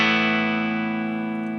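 A Gordon Smith Gatsby electric guitar on a clean tone sounds one sustained chord that rings steadily and slowly decays, close and clear, with no voices.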